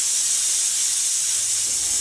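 Steady, loud hiss of steam escaping under pressure, continuous and unbroken throughout with no voices.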